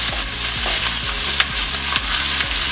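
Ground beef sizzling in oil in a frying pan while a spatula breaks it up, a loud close hiss with rhythmic scraping strokes roughly every half second and no voices.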